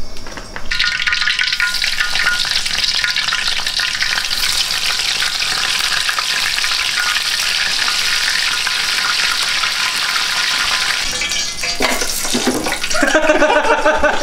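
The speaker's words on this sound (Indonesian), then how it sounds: "Tempe goreng yang simpel buat makan malam, untuk makan malam." Tempeh frying in a pan with a loud, steady sizzle that runs throughout, and a few clattering knocks near the end.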